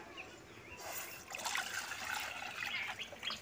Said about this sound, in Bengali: কড়ার মধ্যে দুধ দিয়ে দিচ্ছি।